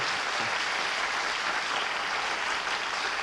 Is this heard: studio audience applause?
yes